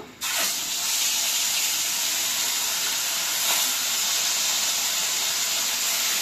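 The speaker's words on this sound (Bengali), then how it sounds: "আমি পুঁটি মাছ বাছার তেলেতেই এই মাছটা, কাতলা মাছটা ভেজে নেব।" Katla fish frying in oil already used for puti fish, a loud, dense, continuous hiss that starts abruptly and then holds steady and close, with no talking.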